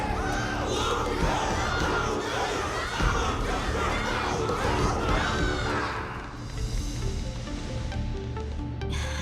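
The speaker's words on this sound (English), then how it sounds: "Everyone's cheering for you, Luca." A large crowd roars and cheers in Honkai Star Rail, shouts swelling loud for about six seconds before easing into a fainter background murmur.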